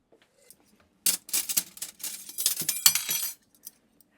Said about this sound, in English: you're having a hard time with the spoons back there